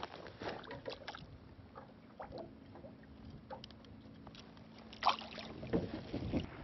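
Low, steady wind rumble with gusty buffeting against the microphone in the Pantanal near Porto Murtinho, faint and continuous, with occasional small knocks and clatters outdoors.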